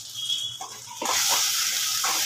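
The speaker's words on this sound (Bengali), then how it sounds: "মিক্সির বাটিটা ধুয়ে একটু জল দিয়ে দিলাম" Water splashes and gushes into a rinsed mixer grinder jar in a kitchen, a short close pour that starts gently and grows into a steady, louder rush.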